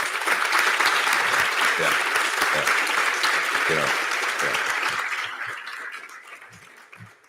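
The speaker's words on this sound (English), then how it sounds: "Let's give them a round of applause." Gala audience at a health awards event applauds the sponsors, a dense sustained clapping crowd with a few voices over it, gradually thinning and fading toward the end.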